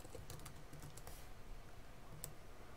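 Typing on a computer keyboard to enter notes about a problem, a steady run of light key clicks at close range with no one talking.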